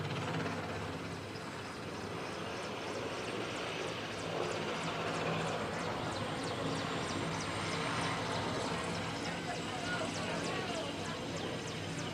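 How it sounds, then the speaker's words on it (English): A Hip transport helicopter departs after dropping air assault troops at a military training field, its engine and rotor roar steady and broad, heard at a distance and holding at a constant level throughout. "once the soldiers are clear, the aircraft will depart"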